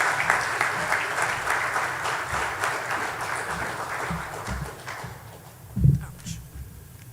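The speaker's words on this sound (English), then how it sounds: "Please give them an applause" An audience at a UWI Global Campus graduation recognition ceremony applauds, a broad patter of clapping that fades after about five seconds, followed by a couple of soft thumps.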